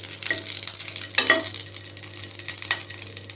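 Green chillies frying in a pan for a spicy North Karnataka raw tomato chutney, a steady close sizzle broken by scraping stirs of a spatula.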